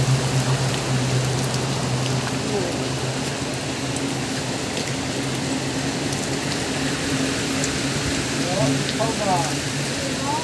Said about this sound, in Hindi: बारिश हो रही है और आ रही है उधर से काफ़ी तेज़ में, और ये हवाओं का प्रेशर से आपको पता चल गया होगा।